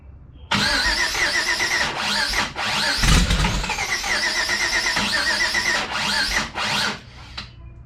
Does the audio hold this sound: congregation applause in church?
no